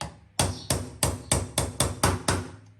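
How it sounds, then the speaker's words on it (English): A small hammer taps brass tubes out of an aluminium GPz motorcycle carburettor, eight crisp metallic strikes in a steady rhythm, each ringing briefly before the next, close up and with no talking. "And I'm going to very gently try and tap it."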